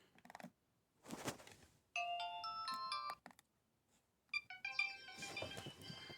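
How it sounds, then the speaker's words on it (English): A Nokia 3120 mobile phone plays a polyphonic ringtone: a few clicks first, then bright electronic melody phrases in two bursts with a short gap, clear and close. "This ringtone."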